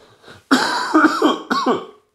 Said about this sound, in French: Il en tousse de joie